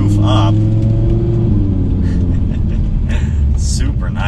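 A 2020 Audi R8 V10 Performance Spider driving with the roof up, its engine giving a steady, loud low rumble throughout, with a voice speaking over it.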